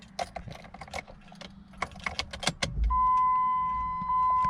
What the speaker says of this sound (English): the car is turning over and it's beeping